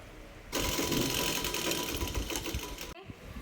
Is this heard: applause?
no